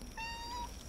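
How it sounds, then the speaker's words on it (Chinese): A single cat gives one drawn-out meow at night in a reputedly haunted house in Minxiong, Taiwan, rising briefly and fading, close and clear over quiet room tone. "我给一只猫吓了好几次"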